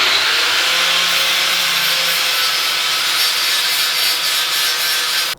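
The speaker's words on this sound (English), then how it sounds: "So I've ground down enough material." An angle grinder grinding down steel tubing while building off-road rock sliders, a loud, continuous high-pitched abrasive whine and hiss with no speech, cutting off abruptly at the end.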